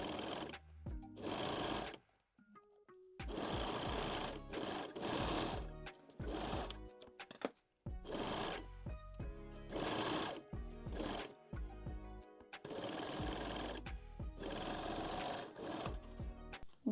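Sewing machine stitching the long edges of lace underwear fabric, running in several bursts of rapid mechanical whirring separated by brief pauses, close and steady.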